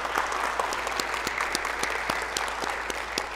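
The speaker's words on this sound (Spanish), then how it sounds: "El coro el día de hoy estuvo magnífico. Vamos a darle un aplauso." A church congregation at a Spanish-language Sunday service claps steadily for the choir, a continuous, fairly even applause heard alone.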